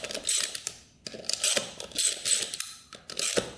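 A hand ratchet fitted with a 13 mm socket loosens wheel nuts on a Yamaha YZ490 motorcycle. Close, crisp pawl clicking comes in four short repeated bursts separated by brief pauses, with no voices.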